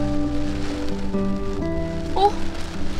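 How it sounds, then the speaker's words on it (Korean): Hail falls on a hiking trail at Ecola State Park, a dense, steady patter of icy pellets close by, with a faint tonal hum underneath. "아, 이게 비가 아니라 우박이어서 이렇게 얼음이."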